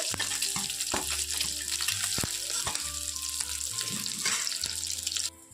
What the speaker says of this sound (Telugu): ఇప్పుడు గుడ్లను కూడా కొంచెం లైట్గా ఇలా ఫ్రై అయిన తర్వాత ఇది తీసేసుకోవాలి